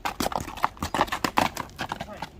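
A big horse used in ulak racing clip-clops along in a brisk, irregular series of hoof strikes, close and fairly loud, mixed with some rustling movement.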